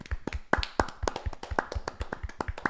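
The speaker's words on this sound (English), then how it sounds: "we'll give him a round of applause for that" Applause from a small group on a sports podcast, a handful of distinct, unevenly spaced claps close to the microphone, fairly quiet and alone without talk.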